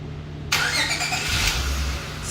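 A car engine cranks and fires up via a remote start button, catching abruptly and settling into a steady idle, close and alone with no talking.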